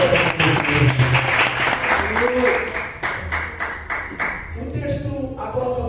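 A church congregation claps together, a dense burst of applause with sharp individual hand claps that thins out and trails off toward the end.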